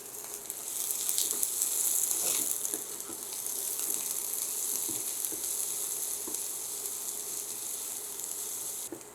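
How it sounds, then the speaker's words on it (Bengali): Chopped onion and garlic frying in a pan for an aubergine mash, a soft continuous sizzle with occasional clicks of stirring, close and fairly quiet, no voices. "পেঁয়াজ রসুনটা একটু ভেজে নিয়েছি,"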